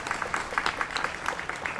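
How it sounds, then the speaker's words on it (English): Audience applause at the opening day of a pop-up park in Calne: a short, steady patter of many hands clapping together, moderately quiet and sustained throughout with no break. "So give them a big round of applause."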